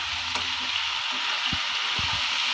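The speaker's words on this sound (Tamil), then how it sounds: "உருளைக்கிழங்கு வந்து நம்ம நல்லா கிளறி விட்டுடலாம்" Cut potatoes fry in a pan with a steady, close sizzle, while a spatula scrapes and stirs them in a few short strokes near the end.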